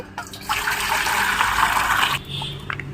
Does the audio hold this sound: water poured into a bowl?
yes